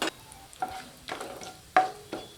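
Whole spices, including cardamom and a bay leaf, crackle and pop in hot oil, with a few sharp bursts spread across the clip and quiet stirring between them.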